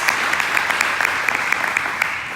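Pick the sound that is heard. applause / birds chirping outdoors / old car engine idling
applause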